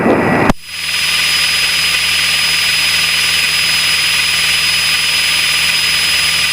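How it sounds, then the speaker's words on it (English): Steady cockpit drone of a light aircraft engine during a takeoff run on runway 23, after a brief click at the start, holding loud and constant with a high tonal whine and broad noise throughout. "Golf Oscar Foxtrot is taking off runway 23 right hand."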